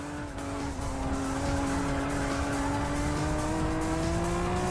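Race cars in the Racing Master video game scream along the Nurburgring with loud, sustained high engine whine that climbs steadily in pitch, mixed with tire noise and no voices.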